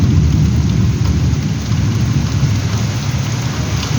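Heavy rain pours steadily in Belgharia with deep, rumbling thunder rolling underneath, a dense continuous roar throughout.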